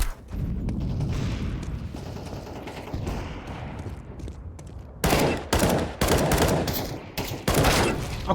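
Rapid bursts of gunfire in a tactical shooter game, a dense run of loud sharp shots and automatic volleys that grows heavier in the second half over a low rumbling background, no one talking.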